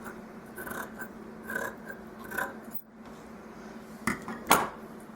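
Scissors snip through fabric for a safari tutu in a series of close, crisp cuts, a rhythmic run of rasping snips, a brief pause, then a few sharper final cuts.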